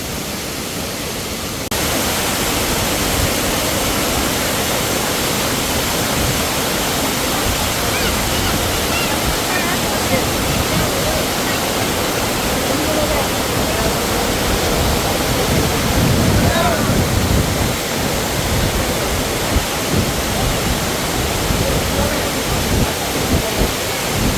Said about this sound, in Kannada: ಸ್ನೇಹಿತರೆ ನೋಡಿದ್ರಲ್ಲ ಇದೆ ಅಂಬೋಲಿ ವಾಟರ್ ಫಾಲ್ಸು